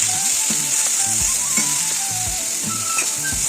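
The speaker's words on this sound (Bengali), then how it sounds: "শুকনো লঙ্কাটা একটু ভাজা ভাজা করে নিয়ে আলুটা আমি নেড়ে নেব" Dried red chili and diced potatoes sizzle in hot oil for a Bengali bottle gourd and poppy seed dish. The frying hiss is steady and close throughout, with a few faint scrapes as the potatoes are stirred. No one speaks.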